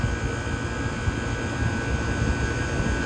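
A 1978 Comfort-Aire Quietmaster air conditioner runs under heavy load, its compressor giving a steady, loud, broadband rumbling drone with a constant high whine above it and no pauses.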